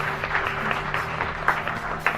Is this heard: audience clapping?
yes